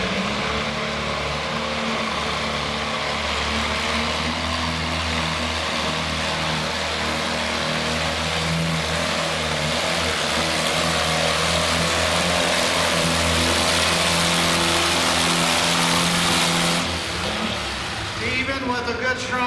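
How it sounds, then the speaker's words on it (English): A pulling tractor roars at full throttle during a winter tractor pull in Chatham, Virginia, a loud, sustained engine blare that holds for most of the run before easing off, with an announcer talking over it. "I just love to see tractor pulling."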